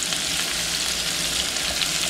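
Chopped onion sizzles in a hot pan of oil, giving a steady, dense hiss that holds at an even level throughout, near and uninterrupted, with no voices.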